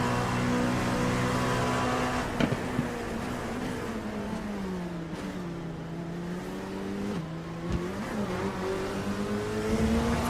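Race car engines at Monza in a racing simulator endurance race, with LMP2 prototypes, a sustained loud engine drone with pitch rising and dipping through gear changes and corners, no talking.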